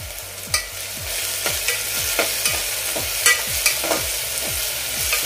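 Coriander dropped into hot tempering oil for a tangy mixed-dal amti, after the tomatoes have softened, sets off a steady sizzle. A spoon scrapes the pan in regular, rhythmic strokes throughout. No one speaks.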